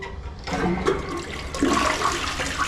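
A hotel bathroom toilet at the Injap Tower Hotel in Iloilo City flushes, a loud rushing surge of water that builds and churns close by for a few seconds.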